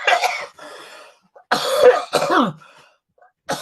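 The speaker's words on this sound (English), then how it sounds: "I have this persistent cough that I've had for years." A man with a persistent cough of many years coughs and clears his throat in a few harsh, close bursts separated by short pauses.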